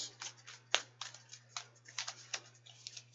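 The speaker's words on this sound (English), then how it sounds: "I'm going to give this 5 shuffles." Tarot cards are shuffled by hand in quick, soft, uneven riffles and taps, close but faint, over a quiet steady hum.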